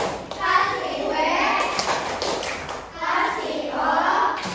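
Elementary schoolchildren in a classroom clap along to a rhythmic chant, with quick, close claps mixed into loud, lively group chanting.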